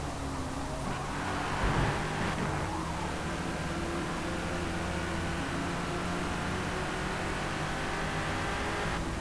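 A turbocharged mid-engine race car in Forza Motorsport drones steadily at high revs throughout, a constant, fairly faint engine and road roar with no break.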